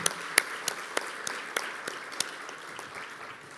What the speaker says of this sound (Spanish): recibamos a nuestro conferencista con un fuerte aplauso